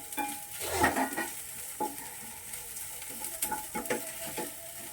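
Green chillies frying with ginger garlic paste for chicken pepper dry, a moderate sizzle under repeated close spoon scrapes and taps against the pan.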